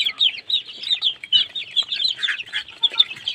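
Chickens and roosters cluck and chatter continuously at a poultry and quail hatchery farm, many birds overlapping in busy, close, fairly loud calls with no speech.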